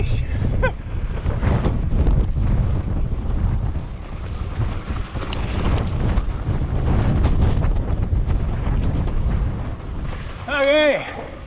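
A strong headwind roars through a canyon, buffeting the microphone with a continuous loud rumble that swells in gusts. A brief voice-like sound appears near the end.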